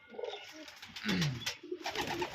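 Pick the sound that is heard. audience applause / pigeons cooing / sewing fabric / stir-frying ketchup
pigeons cooing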